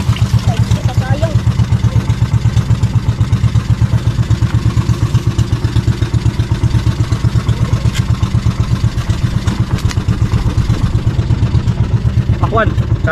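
A small engine runs steadily close by, thumping in a fast, even rhythm throughout with a faint clatter, while people talk faintly over it.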